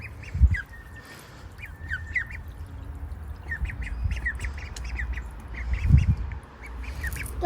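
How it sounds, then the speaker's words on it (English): Several ducks quack and squawk in short bursts from near and farther off, with low thumps of splashing water and handling noises in between; no one talks. "Here's your water ducks."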